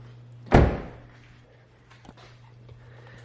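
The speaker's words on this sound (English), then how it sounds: "Go ahead and shut the door." A 10th-generation Honda Civic passenger door shuts with a single solid thunk close by, then fades into a quiet background hum with a few faint clicks.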